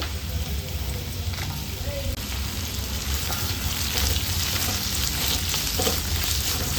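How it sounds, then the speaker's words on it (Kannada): Two large onions frying in hot oil for a goat head curry, a dense continuous sizzle and crackle that holds loud and steady throughout, with no voice over it. "2 ದೊಡ್ಡ ದೊಡ್ಡ ಈರುಳ್ಳಿನ ಹಾಕೊಂಡು ಫ್ರೈ ಮಾಡ್ಕೊಳ್ಳೋಣ"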